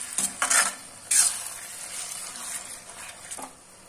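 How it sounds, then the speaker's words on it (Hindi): Green chickpeas being roasted and stirred with cooked spices in a pan, with a few scraping stir strokes over a soft, steady sizzle, close and moderately loud, no talking. "अब हम इसमें ये हरे चने डाल देंगे और इनको भी अच्छे से भून लेंगे साथ में ही"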